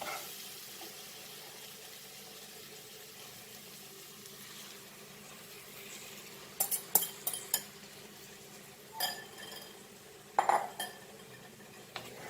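A spoon stirs beaten curd into mutton rogan josh in a pot, making a few faint, scattered clinks against the metal late in the stretch over a quiet background hum.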